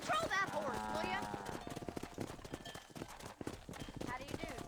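Horse hooves clip-clop in a quick rhythmic trot in Red Dead Redemption, steady beneath voices talking throughout, with a brief snort or whinny near the start.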